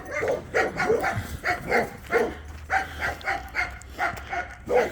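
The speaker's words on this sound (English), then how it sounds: "it was probably the same type of dogs barking" Dogs bark repeatedly in an alley, a steady run of sharp, fairly close barks in quick rhythmic bursts, with no talking.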